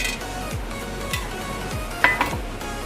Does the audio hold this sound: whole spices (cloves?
yes